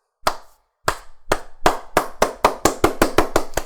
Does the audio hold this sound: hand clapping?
yes